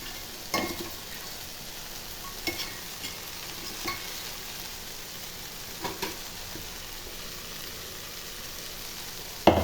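Bitter gourds being stirred as they fry in oil with spice powder, a faint steady sizzle broken by a few soft scraping stirs and a louder clack at the end, with no talking.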